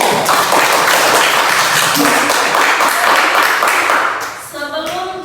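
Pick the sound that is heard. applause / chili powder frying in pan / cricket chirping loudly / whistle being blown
applause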